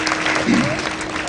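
An audience at a Marathi kirtan claps together in a dense, lively burst, with voices and a sustained tone faintly beneath the applause.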